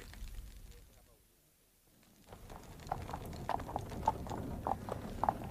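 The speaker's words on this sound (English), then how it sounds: "Superb horses and a liveried footman." Hooves of superb horses pulling a very expensive carriage clip-clop in a steady rhythm at moderate distance, a period radio-drama street effect that rises after a quiet gap and continues under a faint background murmur.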